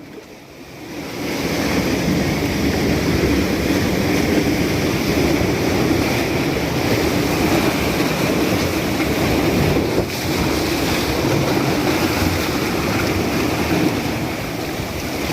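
Sea waves rolling in at Thanthadi beach near Achuthapuram, close to a cave, a steady loud wash of surf with wind buffeting the microphone, continuous throughout with no voices.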